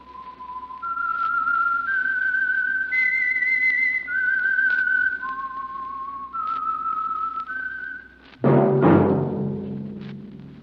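A lone whistled melody opens the Signal Oil radio program The Whistler, stepping through clear rising and falling notes, followed by a sudden louder orchestral sting at the end.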